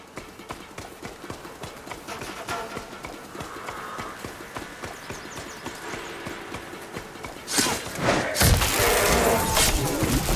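Horse hooves clip-clopping in Horizon Forbidden West, a steady rapid rhythm of close hoofbeats with a brief whinny, then a loud impact and clattering burst near the end.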